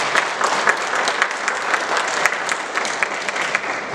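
A church congregation claps together during a Sunday service, a dense, even burst of many hands close by for a few seconds.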